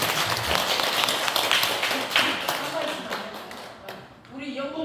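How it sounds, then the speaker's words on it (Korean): An audience at a Buddha's Birthday gathering in a temple hall bursts into loud, steady applause that carries on for several seconds before fading. "박수."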